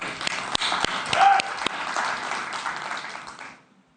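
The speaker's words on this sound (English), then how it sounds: "we could give them a quick round of applause," A small tech-conference audience gives a quick burst of applause, scattered sharp claps over a broad wash that fades out after about three and a half seconds.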